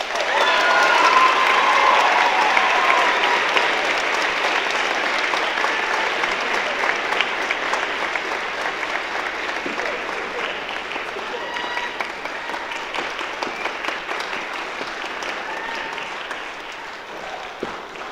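A crowd at a high school spring band concert applauds for an award, a dense, steady clapping that holds for a long stretch and fades a little toward the end, with faint voices mixed in.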